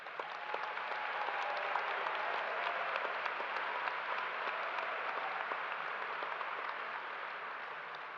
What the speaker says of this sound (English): Let's give our master's students a round of applause.